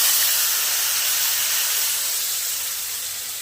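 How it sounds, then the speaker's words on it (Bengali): Ground onion paste sizzles in hot oil for a chicken curry, a loud, close, steady hiss that eases off slightly toward the end. "এবার আমি এই তেলেই দিয়ে দিচ্ছি বেটে রাখা পেঁয়াজ।"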